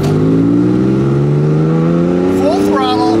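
A Porsche engine in normal mode holds at full throttle, a loud sustained harmonic drone that climbs slowly in pitch, then a quick rising gear-change sweep near the end.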